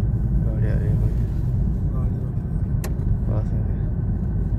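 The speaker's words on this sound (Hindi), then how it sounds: "गाड़ी आ रही है भाई" A car approaches on a mountain road near Auli at night, heard as a steady, low rumble of engine and tyres that fills the whole stretch, with faint voices nearby.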